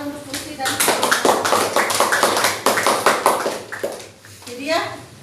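Classroom applause breaks out, a burst of many hands clapping in quick irregular rhythm, loud and close, with children's voices chattering over it and tapering near the end.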